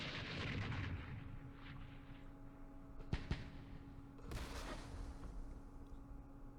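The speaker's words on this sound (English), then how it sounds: "we're getting lucky with our mortars." Mortar fire in the Campaign Series Middle East wargame during the Battle of Jerusalem: two sharp, close impacts in quick succession midway, followed by a broad rumbling blast, over steady low battle ambience.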